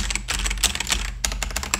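Typing on a Nimbleback Kilmat keyboard with linear switches, a fast, steady patter of close keystrokes with no talking.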